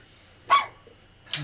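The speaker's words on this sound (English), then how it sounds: "My puppy dog." A puppy yips twice in sharp, short barks about a second apart, fairly close against a quiet background.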